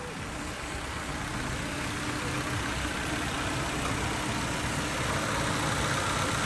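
A Nissan S14 240SX engine idles in a steady, even rumble close by, growing slightly louder toward the end.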